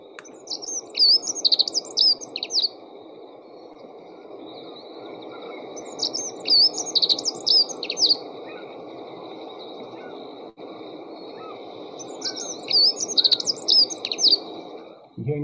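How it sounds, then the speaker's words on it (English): Recorded dunnock song played back over a steady hiss: three short bursts of high, rapid warbling twitters spaced several seconds apart, fairly quiet and thin. "Dunnock, it's rather a high-pitched sound, so I don't know if it's going to work"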